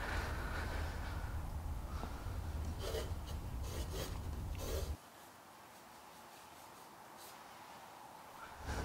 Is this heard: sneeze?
no